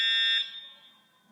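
A school fire alarm blares loudly in a shrill electronic tone, holding briefly before fading back and starting to sound again.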